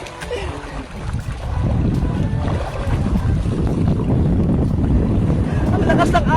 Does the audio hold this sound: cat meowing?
no